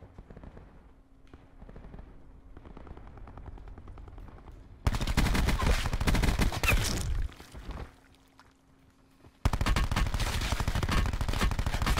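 Automatic gunfire from Call of Duty Blackout rattles out in loud, rapid bursts, with a quieter stretch between two intense volleys and a brief lull near the end.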